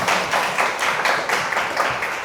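An audience applauds together at a Korean talk event, a dense run of loud clapping with a steady rhythm that holds for a couple of seconds.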